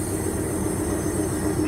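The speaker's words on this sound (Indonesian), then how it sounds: "Dan ini dia lokomotif penolongnya dari" Rescue diesel locomotive CC 206 13 62 arriving at Kramat station from Pasar Senen to help a broken-down CC 206 13 17, a steady loud engine rumble and rail noise, close and unbroken.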